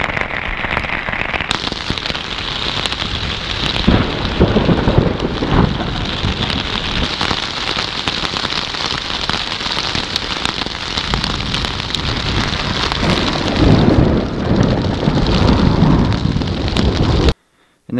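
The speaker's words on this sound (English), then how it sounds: "Lightning is striking all around us." Heavy thunderstorm rain pours onto a backpacking tarp in the woods, a dense roaring wash of drops with deep rumbles of thunder underneath, loud and continuous, cutting off abruptly at the end.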